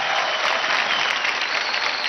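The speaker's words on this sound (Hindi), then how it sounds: "come on guys, जोरदार ताली हो जाए" Loud, dense audience applause on a TV dance show, continuous clapping from a large studio crowd filling the whole stretch with no voices over it.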